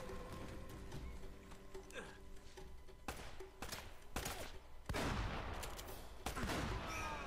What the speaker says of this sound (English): There goes all my shotgun ammo.